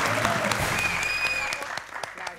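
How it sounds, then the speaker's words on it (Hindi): A studio audience at a Bhojpuri TV quiz show breaks into brisk, dense applause that stays loud and even before thinning slightly at the end. "जोरदार तालियां"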